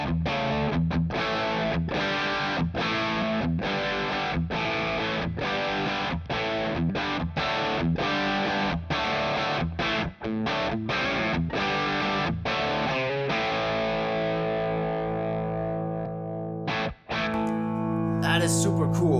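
Chugging, palm-muted electric guitar chords through a compressor placed before a distortion pedal pound out a heavily distorted rhythmic riff, then ring out into a sustained, compressed chord that fades.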